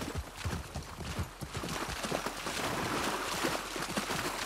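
Horse hooves in The Last of Us Part II make a close, rhythmic clip-clop of repeated soft thuds over a steady background wash, with no talk.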